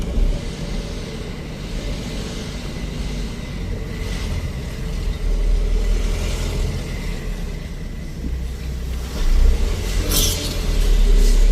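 Dense road traffic in Istanbul, a steady rumble of cars and buses with engines swelling as vehicles pass nearby, continuous and moderately loud, no voices.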